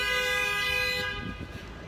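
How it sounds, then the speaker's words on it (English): A car horn blares on a street in Oradea, Romania, a steady loud toot held for about a second, then fading into traffic rumble and distant city noise. "that was not honking at me,"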